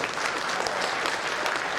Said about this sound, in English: We have to give big applause to Peter Mandaville.